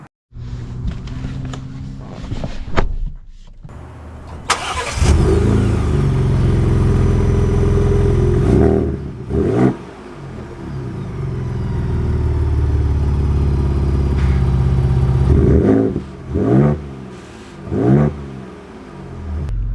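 A 2024 Ford Ranger Raptor pickup engine starts and revs, then a steady loud drone as the truck drives off, with a few clunks and shifts breaking the engine note.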